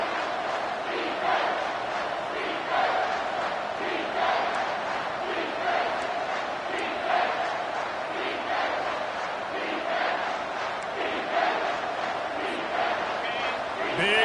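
A stadium crowd at a Miami vs Ohio State football game roars for the defense on a big third down, a loud sustained cheer with swelling waves, while a commentator speaks over it.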